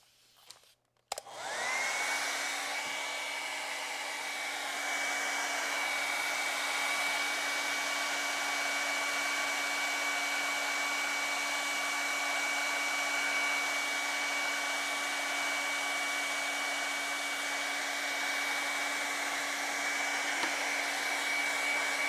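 A hair dryer switches on after a brief click and runs steadily with a loud, continuous whine and airy rush, drying a lightly misted pan pastel drawing of a chicken.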